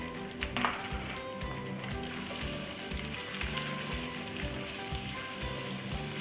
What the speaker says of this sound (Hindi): अब इसमें 2 बड़े साइज़ के प्याज जो मैंने बारीक काटे हुए हैं, ये भी शामिल कर देते हैं।